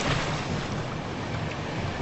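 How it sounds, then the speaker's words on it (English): Surf breaking around an island, a continuous broad roar of crashing waves mixed with gusting wind buffeting the microphone, loud and steady with no voices. "The one thing I can hear is the roar of the surf."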